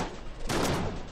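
Garand rifle fire in the video game Enter the Gungeon, a sudden loud burst of shots that rings out and fades after a brief quiet start.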